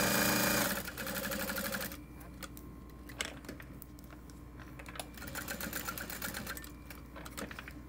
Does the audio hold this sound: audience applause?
no